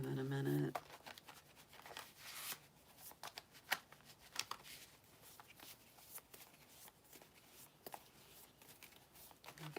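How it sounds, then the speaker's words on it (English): Angel Wisdom tarot cards are shuffled by hand close up, a continuous soft riffling and papery slapping with irregular louder flicks, faint and intimate. "Give them a good shuffle"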